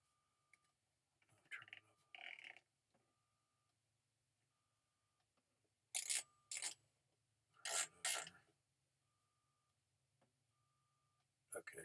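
A buzzing electric muscle stimulator pulses in short bursts with pauses between, alongside a faint steady beeping tone.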